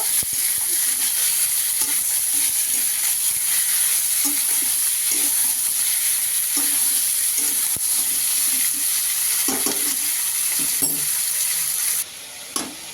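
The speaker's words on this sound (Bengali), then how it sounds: "আমি হালকা একটু ভেজে নেব।" Chicken pieces frying lightly in a pan for a home-cooked meal, a steady broadband sizzle and hiss running throughout with occasional stirring scrapes and taps, close and continuous before easing off at the very end.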